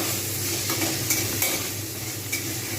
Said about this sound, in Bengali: আমাকে একটু ঢাকা দিয়ে নাড়তে হবে টমেটোগুলো